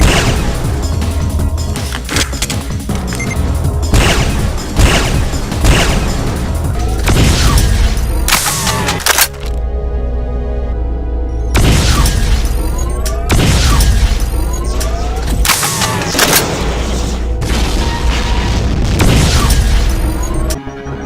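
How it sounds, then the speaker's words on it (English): Devastator shots from a Doom mod burst in heavy, booming explosions, a rapid string of loud blasts with crunching debris, pausing briefly before another volley of explosions rolls in. "charging a spread of Demon Tech Devastator shots"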